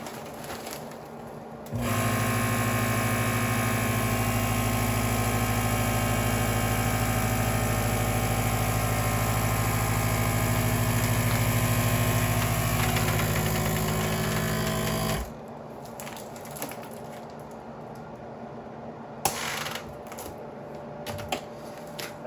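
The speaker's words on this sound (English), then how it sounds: "This is the most incredible food sealer ever." Food vacuum sealer sealing a bag of dog treats, a loud steady mechanical whirring that runs for about thirteen seconds and then cuts off, followed by quiet handling noises and a sharp click.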